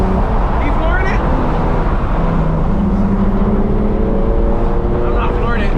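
A 2016 BMW M3 engine accelerating at half throttle on a road drive, a loud steady drone with rising pitch sweeps, close up, with people talking over it.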